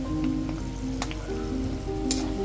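Peanuts fry in hot oil for makyacha chivda, giving a steady, close sizzling hiss with occasional small pops and crackles, with no voices.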